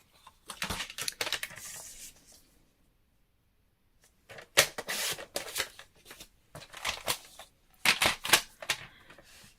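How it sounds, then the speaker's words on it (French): Scissors cut a rectangle from a scrap of patterned paper for an Advent calendar box, giving crisp close snipping and rustling in irregular bursts, with a quiet pause between them. "je vais découper dans ma chute un rectangle de 14 cm par 21"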